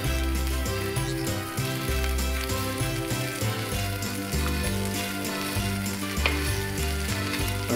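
Cauliflower and potatoes fry with egg in a pan while being stirred, a loud, continuous sizzle with repeated scraping and clinking of the utensil against the pan, close up and without talk.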